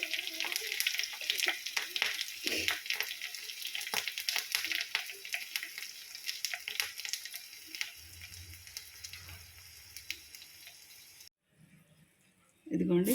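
Curry leaves and asafoetida crackle and sizzle hard in hot tempering oil for tomato pachadi, a dense close sputter that eases off and drops out near the end.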